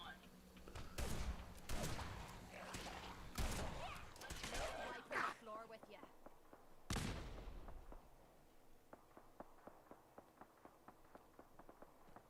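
Fallout 4 gunfire crackles in several loud bursts during the first half, with a person talking between shots, then gives way to a steady series of quieter, evenly spaced clicks or steps.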